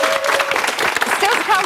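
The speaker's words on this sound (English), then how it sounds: "give yourself a big round of applause this time" A studio audience at a Celebrity Big Brother debate show applauds loudly and steadily for a short stretch, with voices calling out over the clapping.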